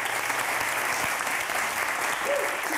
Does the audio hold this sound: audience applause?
yes